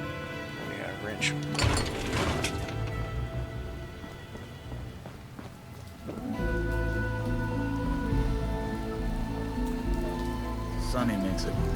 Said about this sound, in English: Now it's gonna be pouring down rain.